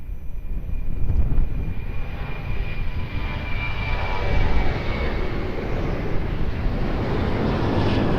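A Portugal airliner on ILS approach to Lisbon runway 02 roars steadily overhead, a loud, continuous broadband jet-engine rush that swells slightly midway and holds without a break.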